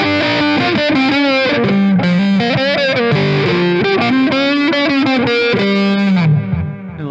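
Distorted electric guitar crunch tone played through an iRig Micro amp, a steady loud stretch of chords and melodic lines with gritty harmonics, alone without talk.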